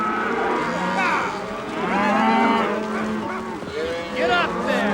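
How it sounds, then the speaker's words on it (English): Cattle on a cattle drive moo loudly and repeatedly at close range, with long, overlapping calls rising and falling through the whole stretch. "We got to get these cows to Great Falls."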